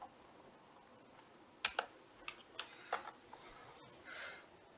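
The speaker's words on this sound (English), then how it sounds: "I'm just typing a link in randomly" A handful of sharp computer keyboard clicks tap out in an uneven burst, faint and close, with a quiet hum behind them and no talking.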